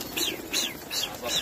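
Pigeons cooing at a rooftop loft, several soft rising-and-falling calls repeating in a slow rhythm close by, with a faint rustle behind them.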